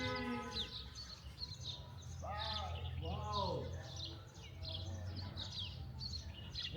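Birds chirp and call outdoors, a faint scattering of tweets and short warbling notes, while people talk nearby.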